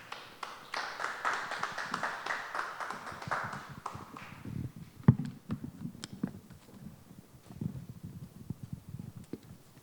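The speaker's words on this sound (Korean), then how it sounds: "우리 앞으로 모실 때 박수로 환영해 주시기 바랍니다" A hall audience at an academic conference on Karl Gützlaff bursts into warm applause to welcome a speaker, dense clapping for about four seconds that quickly thins out, followed by someone talking over light room noise.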